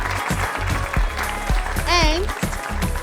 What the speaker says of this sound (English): Can you please give Sheila a round of applause?